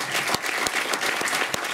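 An audience at a film Q&A claps steadily, a dense continuous patter of applause heard close with no talking.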